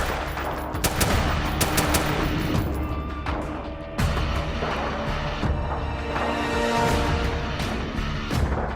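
Dense gunfire in the video game Call of Duty: Modern Warfare 2, with rapid automatic bursts and sharp single shots overlapping with booming impacts in a loud, continuous battle mix.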